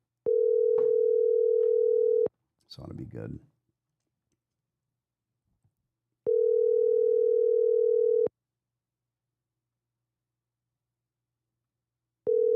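Telephone ringback tones sound during a call being placed: three steady, loud beeps of about two seconds each, separated by long silent gaps. A brief voice speaks in the first gap.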